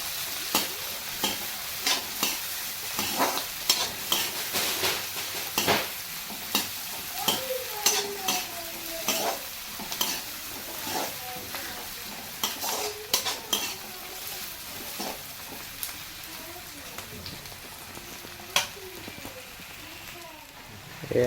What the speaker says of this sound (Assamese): আমি ভালদৰে ভাজি ল'ম এতিয়া অলপ।